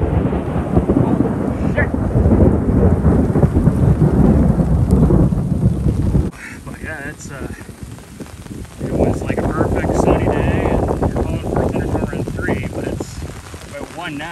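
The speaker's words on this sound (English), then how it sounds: "We've got thunder, lightning right above me." Thunder rumbles loudly overhead while heavy rain drums on a tarp at a lakeside camp, the downpour continuous and dense, with the roar easing briefly midway before building again.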